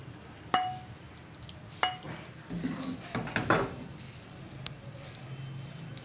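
Cooked daal mash is moved from the pot into a serving dish, with a few sharp metal clinks of a spoon against cookware and soft scraping and stirring sounds, close and moderately loud, without voices.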